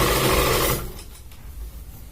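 A sewing machine stitches a seam on men's underwear fabric, a dense fast whirring run for under a second that stops abruptly, leaving quiet handling noise.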